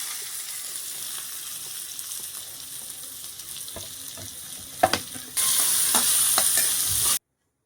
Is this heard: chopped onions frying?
yes